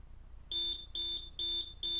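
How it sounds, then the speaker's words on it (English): An electronic alarm on a CK-340 industrial countdown timer sounding after a five-second countdown: four loud, evenly spaced high-pitched beeps, each about a third of a second long, close up with no talk. "So now let's have a listen to what the CK-340's alarm sounds like."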